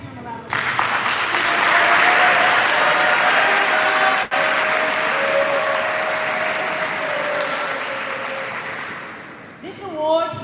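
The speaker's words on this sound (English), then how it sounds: "Yeah, please give him a round of applause." A crowd at a school sports awards ceremony claps for longtime coach Mike Brummel, giving a dense, steady ovation that lasts around nine seconds before tapering off, with a voice starting to speak at the very end.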